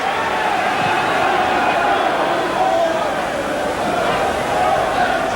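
A large football crowd at a 1987/88 First Division match between Watford and Tottenham Hotspur, a constant roaring murmur of thousands of voices filling the stadium, steady and fairly loud with no breaks.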